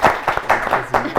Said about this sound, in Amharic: እሺ አጨብጭቡላችሁ በድጋሚ